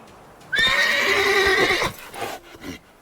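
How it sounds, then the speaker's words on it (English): A horse in the video game The Witcher 3 lets out a loud, close neigh lasting over a second, followed by a couple of softer snorts or hoof sounds. "That horse seems hostile towards me."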